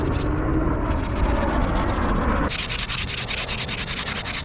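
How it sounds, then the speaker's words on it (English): Axe handle sanded by hand with sandpaper during a restoration of a rusty axe, a close continuous scrubbing that shifts into brisk, rhythmic back-and-forth strokes. "to sand it away by hand until it gets nice and smooth"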